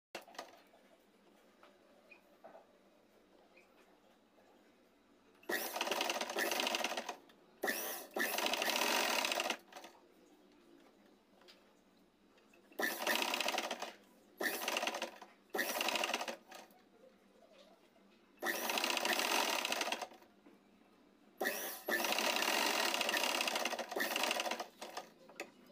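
A sewing machine stitches a lined neckline on a dress made from an old saree, running in loud rapid bursts separated by quiet pauses, close up and with no talking.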